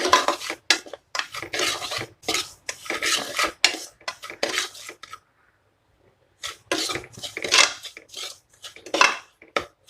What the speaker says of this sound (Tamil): திருப்பியும் நம்ம இதை வறுத்துக்கலாம் நெய்யில்